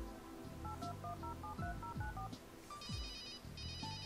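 Telephone dialing tones and ringing from the Runaway adventure video game: a rapid run of keypad beeps followed by repeated electronic ring tones, heard alone with no talking.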